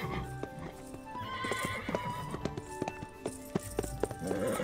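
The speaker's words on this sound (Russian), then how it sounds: "Отец купил эту лошадь недавно." A horse whinnies loudly while its hooves clip-clop in an uneven rhythm close by, with the neighs rising and falling over the steady hoof steps.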